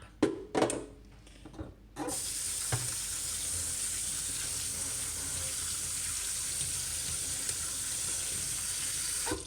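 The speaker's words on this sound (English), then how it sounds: "So first thing we can do is just give them a quick rinse under the tap." Foraged blackberries are rinsed under a running cold tap: a few clunks and handling noises, then the water gushes on and runs steadily and loudly to the end, no talking.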